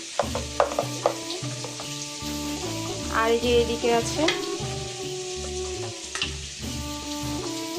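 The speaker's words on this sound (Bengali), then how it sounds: "এদিকে দেখো করলা ভাজা বসিয়ে দিয়েছি আলু করলা ভাজা" Sliced bitter gourd and potato fry in a pan with a steady, moderate sizzle, while someone talks close by over the cooking.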